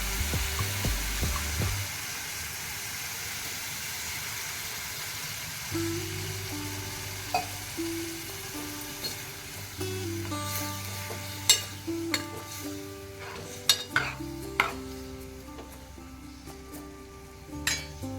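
Water goes into a pan of hot prawn curry masala, stirring and sizzling along with clinks and scrapes, while a tonal musical line plays underneath.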